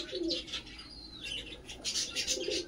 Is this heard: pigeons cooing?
yes